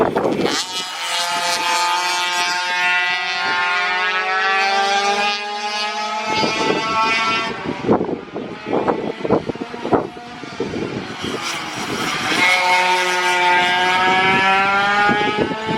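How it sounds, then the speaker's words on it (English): Senior mini moto motorcycles race at the Rowrah track, their high, revving engines whining past in layered waves, loud and near, with a gap of gear-change bursts in the middle. "Senior mini moto guys out there at the moment."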